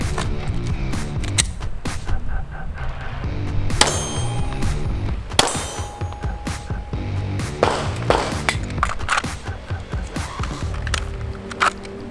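A pistol being loaded, a magazine pushed into the grip and the slide racked, giving sharp metallic clacks and clangs over steady background noise, a couple of them loud and ringing.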